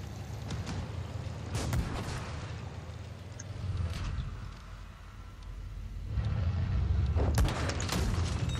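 Tank cannons fire in the World of Tanks Blitz video game, with several heavy booms and sharp shot cracks spaced a few seconds apart over a steady, rumbling engine drone.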